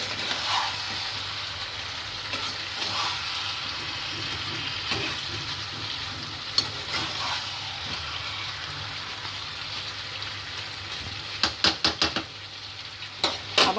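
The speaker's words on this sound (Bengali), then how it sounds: "একটু কষিয়ে নিই ভালো করে।" Mutton for a Bengali curry being stir-fried in a pan, a steady soft sizzle with scraping stirs and a few sharper clatters near the end, no voices.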